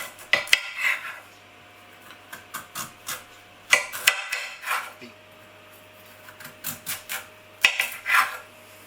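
A knife cuts roasted squash into slices on a board, giving sharp, scattered clicks and taps against the cutting surface in irregular bursts, with quiet pauses between strokes and no talk.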